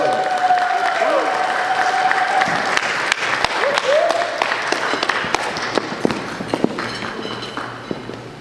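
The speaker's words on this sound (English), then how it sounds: "Let's give him a big round of applause, everyone." A room of guests at a track team brunch claps steadily for an award recipient, dense applause with occasional cheers and voices under it, fading slightly toward the end.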